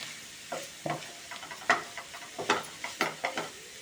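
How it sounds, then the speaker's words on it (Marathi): Grated carrot being sautéed in a pan, with repeated spoon scrapes and stirring strokes in an irregular rhythm over a faint sizzle, close up and without talk. "आणि हे पण असं परतून घ्यायचं असं दोन तीन मिनटं लागतील आपल्याला परतायला"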